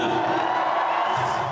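A massive crowd at a Conservative rally in Calgary for leader Pierre Poilievre cheers and whoops, a loud, steady roar of voices filling the brief moment.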